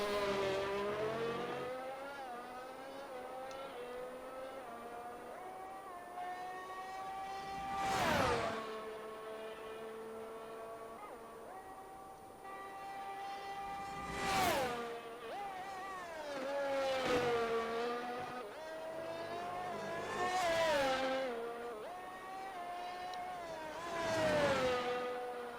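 A 2001 Formula One car screams around Monza in an Italian Grand Prix racing game, its high engine note rising and falling steadily with gear changes, while loud whooshes from passing cars sweep by every few seconds and no one talks.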